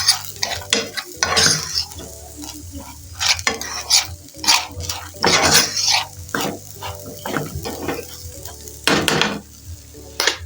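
A spoon stirs seasoning and salt into a one-pot rice meal, scraping and clinking against the pot in irregular bursts with a soft sizzle beneath, close and fairly loud.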